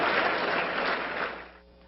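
Applause at a burial of a man laid to rest under the Brazilian flag, a brief burst of clapping from a gathered crowd that fades out within two seconds.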